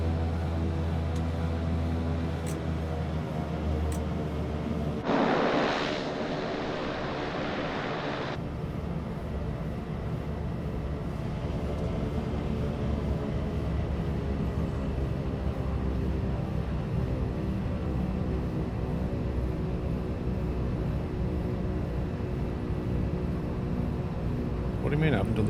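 An airliner taking off in Microsoft Flight Simulator, a steady loud engine roar with layered tonal hum building and holding, a brief hissing surge early on, and someone talking over the noise.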